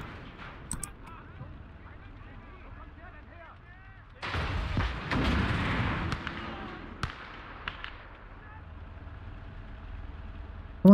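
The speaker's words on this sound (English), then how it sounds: "There is an entire battery of artillery right there." Artillery battery firing in the video game Call to Arms: Gates of Hell, heard as a heavy burst of booming blasts midway with sharp distant reports before and after, over a low ambient rumble and background speech.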